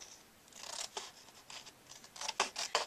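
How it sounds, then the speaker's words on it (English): Scissors snipping through a square of paper card during a craft project, a run of quick crisp cuts in uneven rhythm, close and fairly soft, with no one talking. "I can cut it easier with my scissors. You cut your square all the way around."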